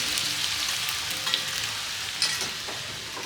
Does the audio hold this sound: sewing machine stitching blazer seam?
no